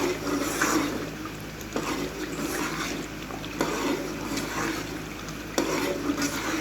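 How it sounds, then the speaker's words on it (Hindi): A spoon stirs softened butter slowly cooking down into desi ghee over a low flame, giving a soft, continuous scraping and gentle bubbling sizzle with a few sharper clinks against the pot. "मैं इसके साथ हल्का हल्का साथ साथ चम्मच हिला रही हूँ।"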